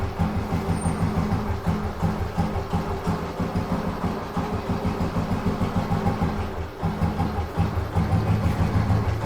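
A restored 1971 Royal Enfield motorcycle engine idles with a steady, low, even thump, close and continuous throughout with a slight dip midway.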